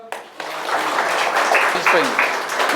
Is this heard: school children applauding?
yes